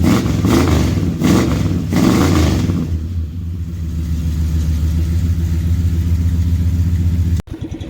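Big-block V8 in a two-wheel-drive long-bed pickup after an engine swap, a loud close rumble with a revving burst at first, then settling into a steady deep idle before abruptly cutting.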